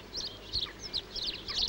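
Small garden birds such as blue tits, coal tits and sparrows chirp around a garden feeder, giving a string of quick, high tweets of moderate loudness over a soft outdoor background.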